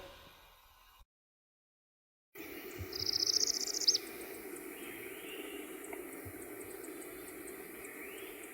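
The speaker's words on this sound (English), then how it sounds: "The northern parula, a small treetop warbler, has a buzzy trill that speeds up and often has an abrupt, ascending final note." A northern parula, a small treetop warbler, sings one short buzzy trill that rises and speeds up to an abrupt final note, fairly clear against a quiet woodland background with faint insects.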